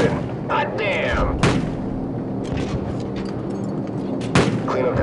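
Airstrike explosions in Call of Duty 4: Modern Warfare, a couple of sharp booms over a constant rumble of battle and radio chatter, with voices talking.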